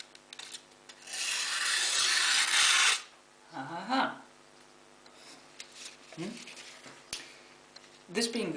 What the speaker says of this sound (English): This being the stainless version, it feels a bit different sharpening it, but it takes a really nice edge